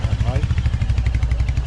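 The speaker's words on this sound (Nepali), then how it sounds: "बाइक लगेर जाँदैछ" A Royal Enfield Hunter 350 motorcycle runs with a steady, pulsing low engine thump close by, steady and loud throughout, with people talking over it.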